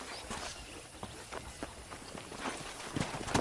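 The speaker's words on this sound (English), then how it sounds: "I picked out a fine horse for you." A horse's hooves in Red Dead Redemption, a soft, irregular clip-clop of walking steps at moderate distance under faint ambience.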